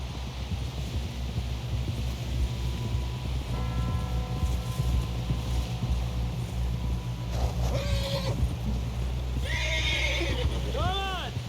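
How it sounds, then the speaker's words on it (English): A horse in the video game Red Dead Redemption 2 gallops with rhythmic hoofbeats under steady background noise, then gives two sharp, loud neighs near the end, while people talk over it. "Someone help John down off this horse."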